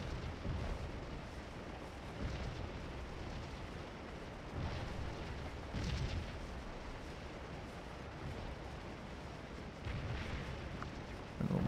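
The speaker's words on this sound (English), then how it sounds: "Hearing some canister." Canister artillery fire rumbles in the Scourge of War: Antietam battle game, with several muffled booms rising at intervals over a constant low battlefield roar, fairly distant and steady throughout.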